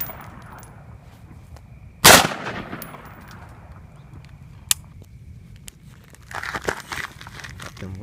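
A real gun firing, with one sharp, loud report ringing out early and decaying quickly, followed by a faint click and some quieter handling noise and rustling.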